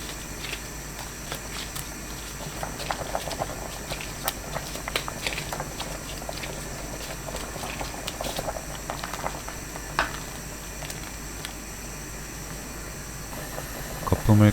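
Mushroom sujebi soup bubbling in a pot, with continuous soft boiling and patter from the simmering broth, plus scattered small clicks and kitchen handling noises, without speech.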